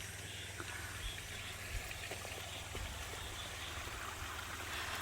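Mountain valley stream water flowing steadily beside rural farmland, a constant broadband rush with faint trickles and drips, fairly distant and even throughout, no voices.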